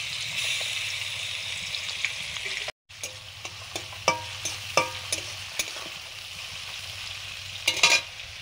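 Prawns frying with whole cumin seeds in hot oil for a prawn and yam curry: a steady, close sizzle broken by sharp stirring clicks and scrapes, with a brief cut to silence partway through.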